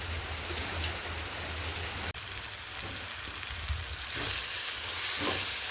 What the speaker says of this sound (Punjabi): ਲੋ ਇੱਧਰ ਆਪਣਾ ਤੜਕਾ ਲੱਗਦਾ ਪਿਆ